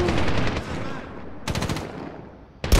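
Rifle gunfire from a Dragunov sniper rifle in the Medal of Honor video game, with a dense clatter of shots early on, a sharp burst of rapid cracks midway and another loud shot near the end.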